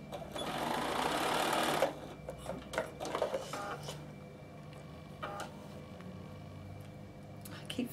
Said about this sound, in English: My machine will lock it, and then I can sew.